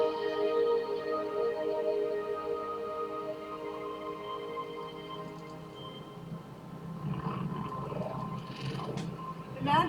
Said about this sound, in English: The sound you're hearing is a light black hole banging on space each time it gets